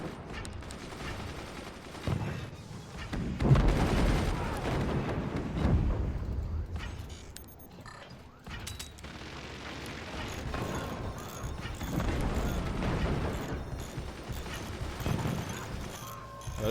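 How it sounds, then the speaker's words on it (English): Mortar fire and explosions during a battle in the physics-based fort-building strategy game Forts: dense, rumbling bursts and crackling blasts that continue steadily throughout, with no talk. "Those mortars are getting through."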